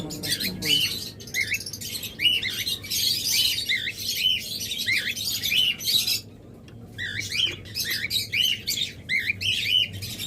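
A pair of cockatiels inside a nesting box, sitting on eggs, give repeated bright chirps and squawking calls in rapid bursts, loud and close, with a brief pause partway before the calling resumes.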